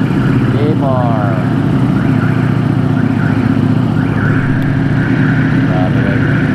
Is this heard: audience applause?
no